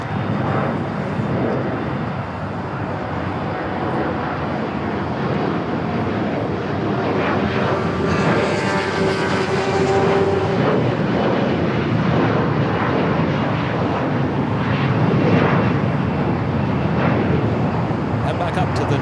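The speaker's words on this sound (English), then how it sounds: "Turkish flight 179, bringing in the 777 and 300 ER here today" A Turkish Airlines Boeing 777-300ER on short final at Los Angeles airport, a loud continuous jet roar that swells and holds steady, with a voice talking over it partway through.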